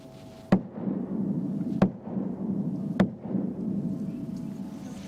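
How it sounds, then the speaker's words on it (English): A hand bangs three times on a wooden stage in a large historic hall at Blackpool's Winter Gardens, each sharp slap spaced about a second apart and followed by a quick, muted echo over a low room hum. "And if I bang my hand on this stage now, listen to this."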